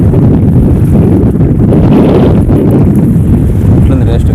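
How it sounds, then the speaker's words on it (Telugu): Cold wind gusts loudly and continuously across the microphone beside the Krishna river between two hills, a heavy roaring buffet that fills everything with no break. "చల్లటి గాలి."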